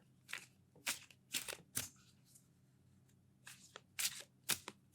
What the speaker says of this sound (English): I'll shuffle the other half near your other ear.